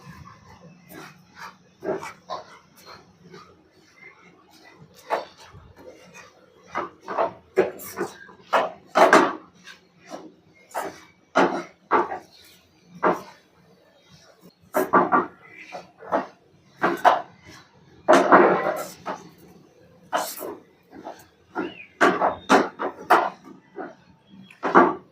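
A thick mixture of sesame seeds, peanuts and jaggery for laddu is stirred in a pan. The spoon makes irregular, repeated scraping and knocking sounds, close by and fairly loud.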